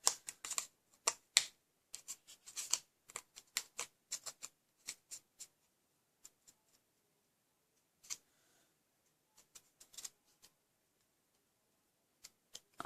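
Scissors snipping through Christmas card stock, a scattered run of short, crisp ticks and small rustles close by, clustered at first, then thinning to isolated snips with quiet gaps between.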